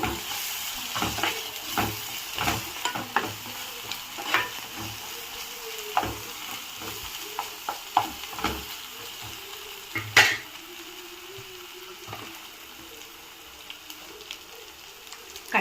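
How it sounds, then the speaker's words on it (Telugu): Masala with coriander powder and salt stirred in a pan, heard as repeated scraping strokes and clacks of a spoon over a low frying sizzle, with a louder knock near the end. "ఒకసారి మొత్తం మిక్స్ చేసుకుందాము"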